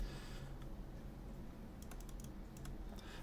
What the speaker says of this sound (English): Why am I typing Hack?